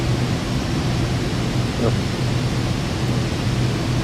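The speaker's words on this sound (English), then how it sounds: "there's some major thunder going on outside right now" Thunder rolls outside during a severe thunderstorm as a broad, continuous rumbling roar mixed with rain-like hiss, fairly loud and steady with no speech over it.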